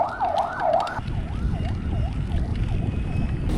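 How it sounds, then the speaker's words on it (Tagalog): An ambulance siren passes on the road during a bike ride, a wailing up-and-down tone that is loud at first, then fainter and repeating over rumbling road and wind noise. "Akala ko dyan pupunta yung ambulansya eh."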